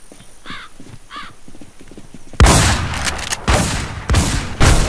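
Gunfire in the online survival shooter Infestation: a quiet stretch with hoof-like clopping gives way to a run of loud, close, broadband gunshot bursts fired in quick, uneven succession.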